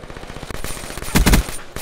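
Gunfire in the shooter game Black Ops 3, rapid automatic bursts rattling loudly and close, with a heavier cluster of shots near the end.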